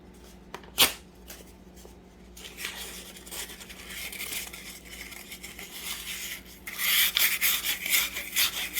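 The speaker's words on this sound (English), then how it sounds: "I'll take my handy dandy sandy paper." Sandpaper scrubbing a rusty, oiled ignition part from a Kawasaki 80–100cc motorcycle, with a brief clack and light handling noises before a steady, close gritty rasp that grows louder and rougher toward the end.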